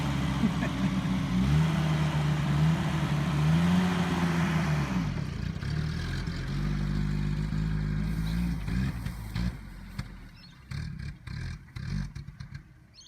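A Mitsubishi Pajero (Montero) paddock basher runs close by, its engine droning and revving steadily, then easing and sputtering as the vehicle rolls with clattering bumps and knocks.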